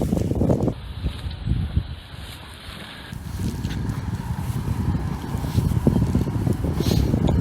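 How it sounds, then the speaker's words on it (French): Wind buffets an iPhone microphone, a steady, loud broadband rumble and roar that swells and dips without pause. "Le vent malheureusement."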